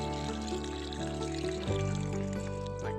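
Liquid adhesive poured into a fungicide spray mix of Dithane and 16 liters of water for treating leaf spot on bird's eye chili plants, a steady close trickling pour that runs continuously with a shift in tone partway through.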